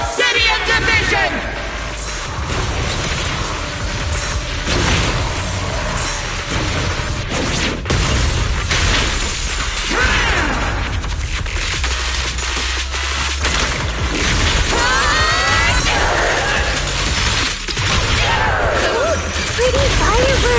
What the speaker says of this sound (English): Pretty firework!